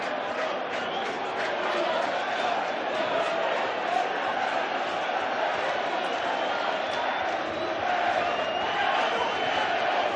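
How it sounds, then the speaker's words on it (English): York City football fans shouting and cheering in a stadium after the final whistle of a Rochdale vs York City match, a dense continuous crowd roar that holds steady throughout. "York City's fans, to their credit, have not stopped shouting,"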